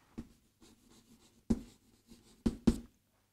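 Pen or chalk writing a numeral by hand: a series of short scratchy strokes and taps, irregularly spaced with a few sharper marks near the end, close and fairly quiet.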